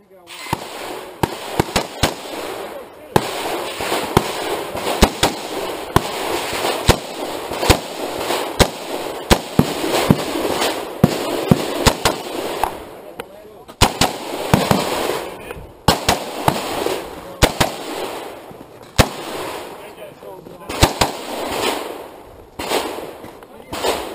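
Rifle shots crack out at a shooting match stage at Sanners Lake, dozens of sharp, loud reports in irregular bursts, some rapid and some spaced, over background chatter and noise.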